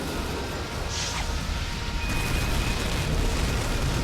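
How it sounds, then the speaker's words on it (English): A fire-style fireball jutsu explosion in the Naruto Shippuden XT Storm fighting game, a steady broad roaring blast that sustains loudly for several seconds with no pause. "Fire style! Fireball jutsu!"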